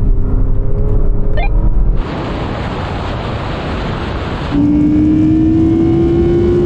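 An Audi R8 and a Porsche Cayenne GT accelerate hard in a rolling race from 50 mph, heavy wind roar over a steady engine drone, then a rising engine whine building as the cars pull away.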